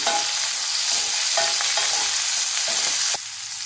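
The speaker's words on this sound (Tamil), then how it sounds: "இப்போ இது எல்லாத்தையும் நல்லா வதக்கிடலாம்" Chutney ingredients with curry leaves and salt sautéing in a pan, a steady close sizzle with repeated scraping and stirring strokes throughout.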